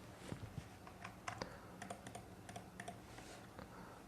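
Fingers tap out text on a computer keyboard in irregular, quick clicks, quiet and close, with no voices.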